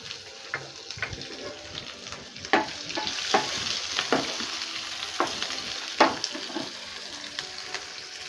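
Chana dal, urad dal and green chili frying in oil in a pan make a close, continuous sizzle, with repeated sharp scrapes and knocks of a spoon stirring them at an uneven pace.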